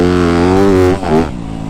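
A Yamaha YZ250F four-stroke dirt bike ridden in sand revs loud and close, its engine drone rising steadily and then dipping briefly with a quick shift before it settles back to a steady note.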